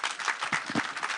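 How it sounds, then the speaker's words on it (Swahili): Audience applause at a public security forum in Nyeri town, Kenya. Dense, steady clapping fills the whole moment with no break, a few low murmurs mixed underneath. "Makofi"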